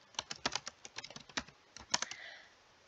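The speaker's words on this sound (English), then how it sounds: "Sorry for my typing." Rapid, uneven clicks of typing on a computer keyboard, close and fairly quiet, ending with a few harder key strikes.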